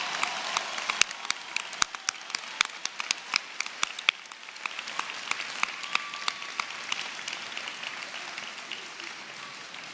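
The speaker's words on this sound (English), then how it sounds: "Can we get a round of applause for all of our graduates today?" Audience applause for graduates at a 2019 university commencement ceremony, a steady wash of many hands clapping for the full ten seconds with sharp individual claps standing out, with no talk over it.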